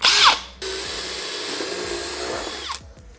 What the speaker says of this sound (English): we're gonna drill a hole into the top of the fridge